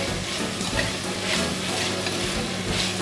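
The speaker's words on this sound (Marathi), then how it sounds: "हेही मिक्स करून घेऊया या भाज्यांमध्ये मसाल्यांमध्ये चांगले" Soya chunks stirred into a pan of vegetables and spices for a soya biryani, giving a steady soft sizzle with light scraping stirs throughout, close and moderately loud, with no voices.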